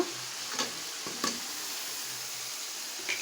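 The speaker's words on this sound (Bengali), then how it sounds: "আমার মশলা এই পর্যায়ে অনেকটা ভাজা ভাজা হয়ে গেছে" Spices sizzle and fry softly in a pan, with a few sharp scraping clicks of stirring breaking through the steady crackle.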